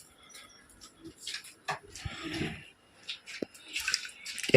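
Mint leaves rinsed in water make close, intermittent splashes, drips and swishes in short irregular bursts, moderately loud with brief pauses between.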